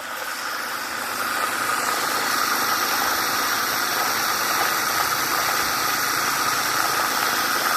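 A homemade steam-powered Tesla turbine fed by a firewood boiler runs steadily with a constant mechanical hum and vibrating rattle that swells slightly in the first second, then holds at an even, fairly loud level with no talking.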